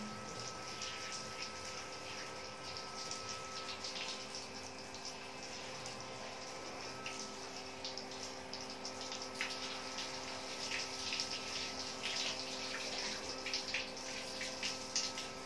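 Warm water runs steadily from a tap into a bath, a continuous hiss and splash with faint clatter on top, fairly quiet and unbroken throughout, with no voices.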